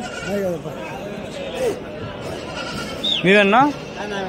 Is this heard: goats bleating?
yes